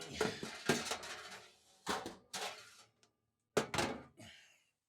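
A big pan clanks and thunks against the edges of a tiny home oven, several loud, close metallic knocks in bursts separated by short silences.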